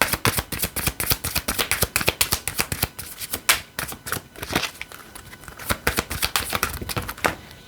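Playing cards are shuffled in rapid, crisp riffles during a tarot-style reading, a dense run of close flicking snaps with short pauses, heard alone without talk.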